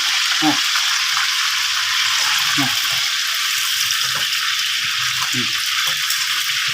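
Sun-dried beef, sweet-salty in flavour, sizzles steadily in hot oil with a broad hiss, while occasional soft clinks and scrapes of a utensil punctuate the frying.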